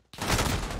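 A loud burst of rapid gunfire from a Model 680 gun in a video game, starting abruptly and sustained for under a second, dense and close.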